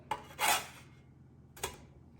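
An oat tortilla is flipped in a pan with two quick scraping, rubbing sounds, the second after a short pause, faint and close with no talking.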